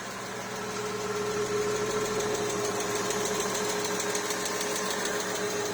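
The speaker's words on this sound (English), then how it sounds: "The lifter is a bit noisy because I haven't started the car for a long time." A Porsche Boxster S 986 engine idles after a long layoff, its lifters noisy, giving a steady, fast ticking clatter over a constant hum that runs evenly throughout, close and moderately loud.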